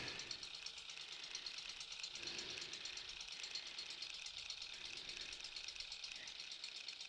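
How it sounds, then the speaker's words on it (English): A boat motor idles steadily while warming up on a canal in Amsterdam, a faint, even mechanical chugging that runs throughout with no talk over it. "While we're just waiting for the motor to warm itself up a little bit."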